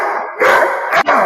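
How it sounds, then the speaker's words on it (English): A big dog barks twice nearby, loud deep woofs about half a second apart with no talking. "That's a big dog."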